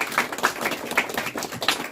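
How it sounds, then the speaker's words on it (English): Small audience at a talk clapping in a steady patter of close, overlapping handclaps, with no voices over it. "We'll give a round of applause for last few contributions."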